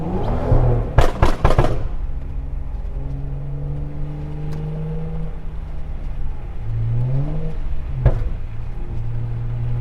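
A BMW 535i pulling out and accelerating on a snowy road, the engine revving up and down in two rising surges after a few sharp clunks at the start, close and loud with no talk.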